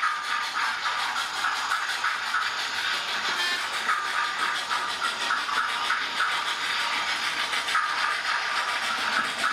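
A steady mechanical rumble with rhythmic chuffing and hissing from a model steam locomotive's digital DCC sound, running continuously at moderate express-train speed, fairly close.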